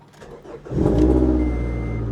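A used car with an aftermarket go-fast exhaust cranks briefly, then fires up and settles into a loud, deep, steady idle rumble close by.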